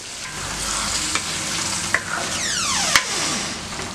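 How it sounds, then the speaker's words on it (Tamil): Tamarind water hisses and sizzles as it is poured into brinjal gravy in a hot pan, with a few sharp clinks of a utensil and a rising bubbling sound as it settles. "இப்போ நம்ம என்ன பண்ணுவோம் புளி ஊற்றிக்கலாம்"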